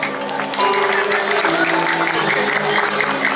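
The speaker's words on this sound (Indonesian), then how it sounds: "tepuk tangan buat penabuh Yohana dulu" Audience applause for gamelan musicians at a Balinese Calonarang performance, a steady dense wash of clapping mixed with lingering gamelan tones and crowd noise.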